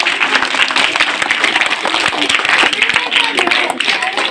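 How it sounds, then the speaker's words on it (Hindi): Audience applause at an annual school function, dense loud clapping that continues for several seconds, with voices mixed into the crowd. "जोरदार ताली बजाइए सोनाली के लिए"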